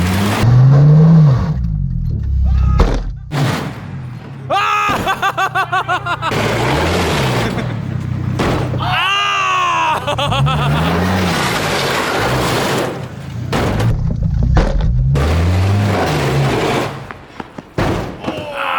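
Volvo caster car, a cut-in-half Volvo build, revving in repeated bursts with rising and falling engine pitch, loud and close, with thumps and clatter between revs and brief voices.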